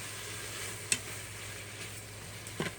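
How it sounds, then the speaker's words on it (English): Bacon and minced garlic sizzle softly in a pressure cooker, a steady quiet frying hiss broken by a couple of sharp pops and stirring clinks. "You can definitely hear that sizzling now."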